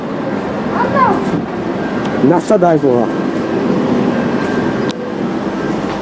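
Train at platform 3 of Bratislava main station, a steady rumbling drone with brief squealing and screeching tones, heard under loud nearby talk in a busy station.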